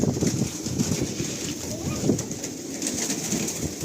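Pigeons at a loft cooing and calling in a steady, busy chorus, with soft wing flutters and rustling close by over constant background noise, no speech.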